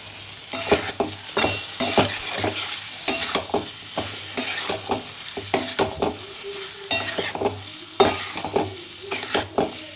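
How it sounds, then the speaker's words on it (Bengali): Spice masala with duck eggs sizzles in a pan while a spoon stirs and scrapes in repeated strokes, a steady fry running under the regular clatter of stirring. "ডিম দিয়ে বেশ ভালো করে মশলাটাকে কষে নিচ্ছি।"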